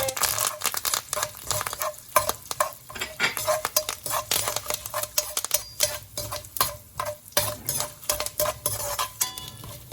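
Hing being stirred into a hot pan as the base for an eggplant curry, a steady run of scraping utensil strokes and clinks over a low sizzle, close and fairly loud throughout with no talking.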